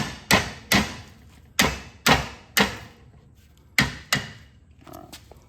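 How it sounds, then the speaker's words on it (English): A hammer strikes metal while driving a pin out of a John Deere 318 mower deck during a bearing removal, with eight loud, close, ringing blows in an uneven rhythm, often in pairs, followed by a softer knock. "I don't want to get that pin hammered up in there"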